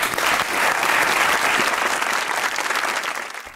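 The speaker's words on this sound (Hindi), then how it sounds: "बहुत ताली होनी चाहिए भाई।" Studio audience applause on a Pakistani comedy talk show, a full, steady wash of clapping from the crowd that holds for a few seconds and then begins to taper off.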